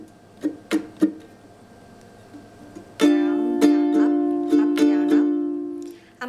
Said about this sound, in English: The pattern that I'm going to be using is the 4-beat calypso strumming pattern